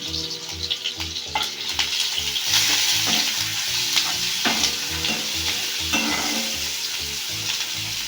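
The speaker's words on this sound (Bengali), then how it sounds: "পেঁয়াজটা হালকা ব্রাউন করে ভাজা হয়ে গেছে" Chopped onions sizzle loudly in a pan, frying to light brown, while a utensil scrapes and stirs in a steady rhythm, close up and without any voices.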